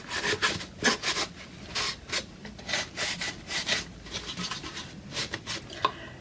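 Paint is rubbed on and off a lamp's surface by hand in a DIY lamp art project, a rhythmic series of close, soft scrubbing strokes repeating back and forth with no voices.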